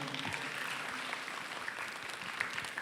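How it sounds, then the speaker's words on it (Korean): Steady applause from teachers and students at a school question festival in Gyeongbuk, South Korea, a dense wash of clapping that holds at an even level throughout, with a faint voice or two underneath. "네, 큰 박수로 맞이하겠습니다."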